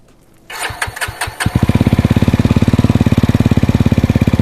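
A Jawa 350 motorcycle with a new tuned muffler exhaust cranks with several sharp starter bursts, then catches and settles into a loud, steady, evenly pulsing thump, close by with no talk.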